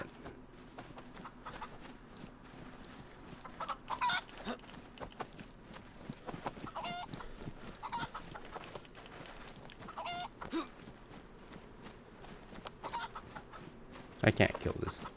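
A video-game chicken clucks repeatedly in short bursts over game ambience and footstep-like sounds, with a louder flurry of clucking toward the end; someone talks over part of it.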